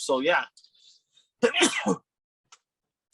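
A person sneezes sharply during a dirt track racing talk show, one brief burst followed by quiet, with a short spoken phrase just before.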